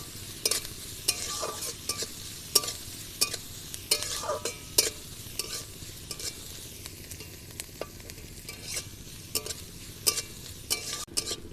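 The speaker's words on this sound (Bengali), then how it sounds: "এর মধ্যে কিছুটা আদা কুচি দিয়ে দেব, ভালো করে ভেজে নেব।" Chopped garlic and ginger fry in a pan for a drumstick-leaf (sajna) dish, a steady close sizzle broken by repeated sharp scrapes and clacks of stirring, with no talking.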